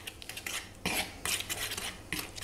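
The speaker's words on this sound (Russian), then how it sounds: "белок одного яйца, и смешиваю с сахарной пудрой" Egg white whisked with powdered sugar into a lemon cake glaze, quick irregular scraping and clinking of a utensil against a bowl in short bursts, close and fairly quiet with no talk.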